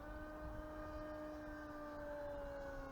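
Atomic RC Dolphin model plane's electric motors held at full throttle produce a steady high-pitched whine with sustained tonal harmonics, constant and fairly faint, as though heard from a distance in flight.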